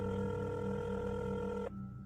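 Cell phone dialing tones, a sustained electronic beeping tone with steady pitched layers that cuts off abruptly near the end, alone with no talking.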